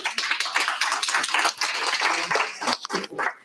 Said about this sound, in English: Give her a nice little hand of applause